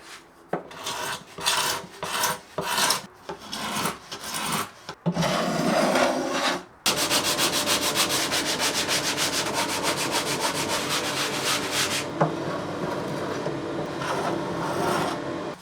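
Rhythmic rasping strokes of sanding a wooden instrument body, starting in short bursts and then settling into a steady, continuous scratchy grind close by.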